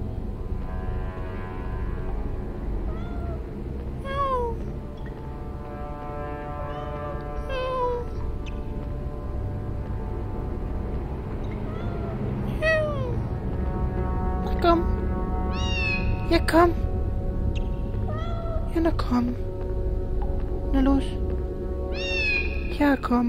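A cat in the Harry Potter and the Philosopher's Stone PlayStation game meows again and again, short bright cries recurring over a steady game backdrop while someone talks throughout.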